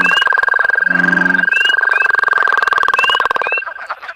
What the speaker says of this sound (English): This is the sound from a real pond, taken at nighttime during egg-laying season for frogs.